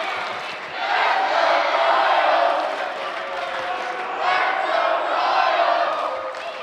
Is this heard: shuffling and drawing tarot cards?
no